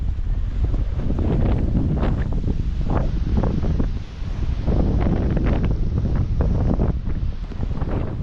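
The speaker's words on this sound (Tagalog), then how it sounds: "Mahangin." Strong gusty wind buffeting the microphone in loud, uneven bursts at Pacifica, California, while crabbing, a constant roar with rumbling low thumps throughout.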